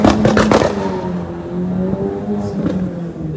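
A Porsche 911 GT3 of the 992 generation in Shark Blue launch spec, lowered on AL13 wheels, revs loudly and close up, its engine note rising in a sustained, slightly falling drone over about three seconds, with no talk.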